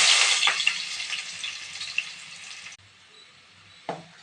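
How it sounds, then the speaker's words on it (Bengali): Two green cardamom pods and whole cumin seeds hit hot oil in a kadai, giving a loud close sizzle that fades over a couple of seconds, cuts off, then flares briefly again. "প্রথমে দুটো এলাচ দেবো, ছোটো এলাচ আর গোটা জিরে।"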